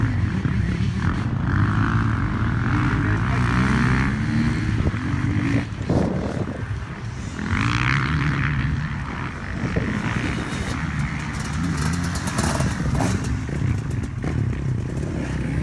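Motocross bikes at the start of a cross-country final race, engines droning and revving together in a dense, loud roar with clattering, sustained throughout.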